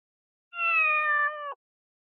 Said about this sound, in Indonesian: Kucing? Kucing?